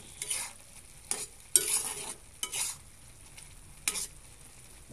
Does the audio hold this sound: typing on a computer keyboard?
no